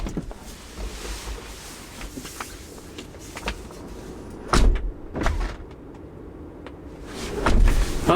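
A few sharp thuds and clicks over a quiet background, a Tesla Model X door shutting followed by a short locking clunk, fairly close by.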